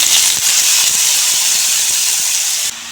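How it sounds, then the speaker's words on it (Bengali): Chopped banana flower fries in hot oil in a kadai, giving a loud, steady, bright hiss that runs throughout and cuts off sharply just before the end. "এখন কলার তুর ভেজে নেব।"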